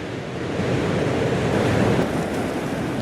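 Sea waves washing onto the shore at Spurn as the tide begins to recede, a steady broadband roar of surf with wind buffeting the microphone, continuous and fairly loud throughout with no voices.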